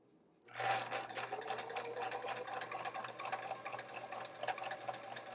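Sewing machine chain piecing quilt blocks, starting after a brief pause and then running steadily with a close, even mechanical whir and rapid needle rattle, alone without talk.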